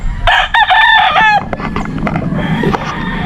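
A rooster at a chicken farm lets out one loud, close crow, followed by softer clucking and farmyard noise.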